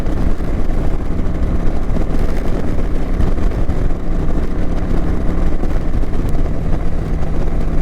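Kawasaki Vulcan 900 cruiser motorcycle holding 75 mph on the interstate, a steady loud engine drone mixed with heavy wind rush, continuous and close throughout with no speech.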